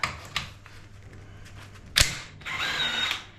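Ratchet wrench loosening the brake drum guard bolts at the bottom of a Honda Big Red 300, with a few sharp clicks and a clear burst of ratcheting near the end, close up and with no talking.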